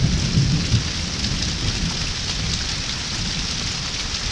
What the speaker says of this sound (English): the rain is starting to subside some